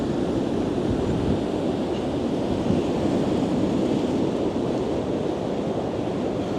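Stormy sea waves churn and surge at high tide along the Blackpool seafront, a loud continuous roar of surf mixed with wind buffeting, steady throughout with no speech.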